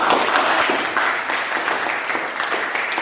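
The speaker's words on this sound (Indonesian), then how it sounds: "Kita beri tepuk tangan, aplaus semuanya." Classroom applause for students, a dense, steady patter of many hands clapping close by for the whole stretch, with no voices standing out.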